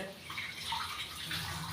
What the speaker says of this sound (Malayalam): വെള്ളം നിറച്ച് വെക്കുക